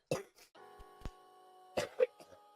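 A few close coughs in a quiet room, a burst near the start and two more later, with a steady electronic hum in between.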